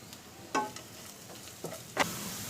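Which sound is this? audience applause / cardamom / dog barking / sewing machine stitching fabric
cardamom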